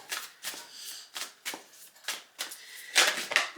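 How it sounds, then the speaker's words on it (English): A tarot card deck being shuffled close by, a run of crisp riffling bursts in a steady rhythm of about two per second, building to a brighter, louder flurry near the end, with no voices. "I've given the deck a really good shuffle for Pisces, May 2024"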